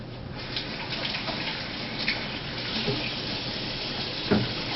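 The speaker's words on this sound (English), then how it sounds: "Let me wash my hands." Running tap water pours continuously while hands are washed beneath it in a home kitchen during cooking, a steady close splashing hiss with small splashes and clinks.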